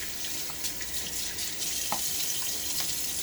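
Tap water runs into a sink during a wet shave while water is splashed onto the face, a faint, steady trickle broken by a few soft splashes and drips.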